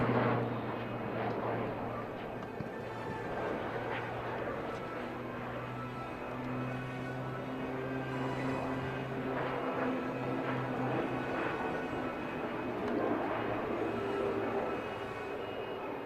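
A display aircraft flies a loop at the Aero India 2025 aerial show at Yelahanka Air Force Station, its engine a continuous, moderately distant roar with a low steady hum throughout.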